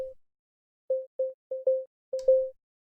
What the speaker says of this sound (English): This is sine waves.